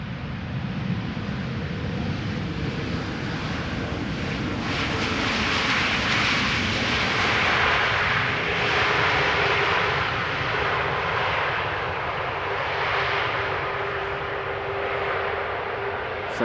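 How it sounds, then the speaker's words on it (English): An EasyJet Airbus A320neo arriving at Amsterdam Schiphol Airport after a flight from Geneva gives off a loud, steady jet roar that swells slightly and then holds for the whole stretch, with no speech. "This is the EasyJet A320neo arriving from Geneva."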